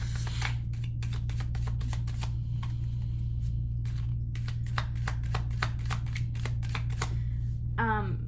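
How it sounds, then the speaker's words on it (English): Tarot cards are shuffled and riffled in quick clattering bursts, close and crisp over a steady low hum, with a short rising tone at the end. "let's pull cards and see what falls out"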